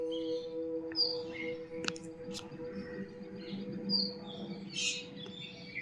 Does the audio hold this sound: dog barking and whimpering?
no